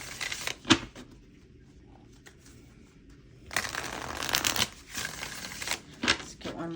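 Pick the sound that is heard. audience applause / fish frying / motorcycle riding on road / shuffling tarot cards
shuffling tarot cards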